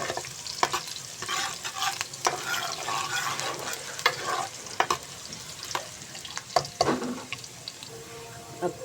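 Garlic, ginger and onion fry in a pan for a dhaba-style moong masoor dal tadka, with a steady close sizzle and repeated scraping stirs of a spoon, and no voices.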